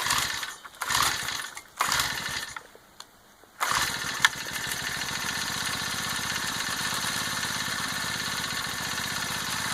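A Honda mini tiller engine sputters through a few short pull attempts, then catches and settles into a steady, even idle that runs loud and close to the end.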